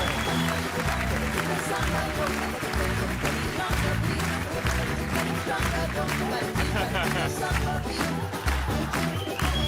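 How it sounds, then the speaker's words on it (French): An audience on a French TV show applauds a samba school, with steady clapping all the way through under loud music and voices. "Je voudrais qu'on applaudisse très très fort l'école de Samba, Davina Samba"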